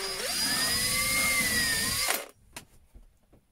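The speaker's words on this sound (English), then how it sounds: "Set it up on my little drill block and drill my second hole" A power drill whines at high speed for about two seconds, pitch shifting slightly as it bores through a plastic bottle cap, then stops, followed by a few small clicks.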